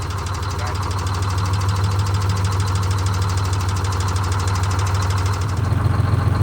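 Detroit Diesel 6-71 engine running steadily at close range, a loud low throbbing drone with a fast rhythmic knock, rising slightly near the end, no air compressor clanking and no speech.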